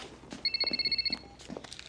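A telephone rings indoors in one electronic trill burst, a rapid chirping warble that lasts under a second. Soft footsteps and room noise surround it.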